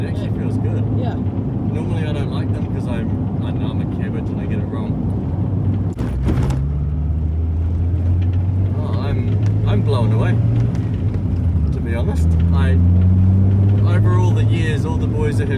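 A Honda Integra Type R DC2 driving, its engine droning steadily underneath with rising and falling revs as it pulls, while people talk inside the car over it.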